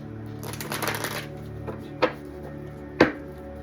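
A deck of tarot cards is shuffled by hand, a brief rippling burst of riffled cards followed by two sharp taps as the deck is squared, over quiet background hum.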